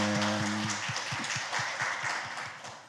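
A church congregation applauds together during a worship service, a dense, even patter of many hands that holds steady for a few seconds.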